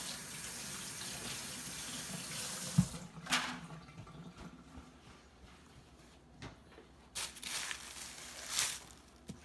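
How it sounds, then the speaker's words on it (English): Tap water running during a quick hand rinse at a sink, a steady faint flow near the start, then splashes and a few louder rushes of water with gaps between. "I'm going to rinse my hands off real fast"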